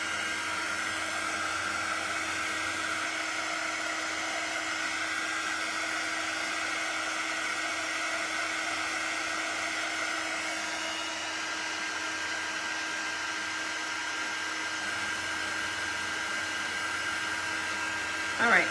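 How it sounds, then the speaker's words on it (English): A hair dryer blows close by, drying transfer paste on a Snoopy doghouse craft, with a loud, steady whirring hum that holds for the whole stretch and a faint voice underneath. "All right, so I'm just gonna leave my dryer here."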